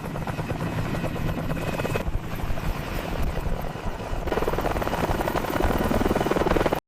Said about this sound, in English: Mi-17 type, utility helicopter.